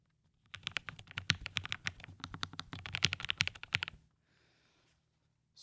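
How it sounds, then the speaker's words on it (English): Rapid typing on a new low-profile keyboard, a dense run of light, crisp keystroke clicks for about three and a half seconds, close and fairly quiet, then stopping into near silence. "I got a new keyboard."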